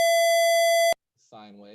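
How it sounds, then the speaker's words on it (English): A square wave tone from an oscilloscope keyboard synthesizer sounds loud and steady for about a second, then cuts off abruptly, followed by a person starting to speak. "For example, a square wave sounds and looks like this."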